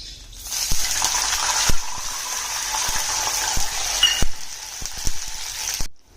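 Water poured into a hot oil tempering of mustard seeds, urad dal and curry leaves gives a continuous loud hiss and sizzle, broken by occasional spoon taps while it is stirred, then stops abruptly.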